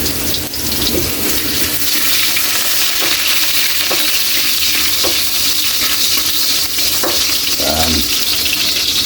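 Ginger frying in hot oil for pork dinuguan, a loud, steady sizzle with occasional stirring scrapes, continuous and close throughout.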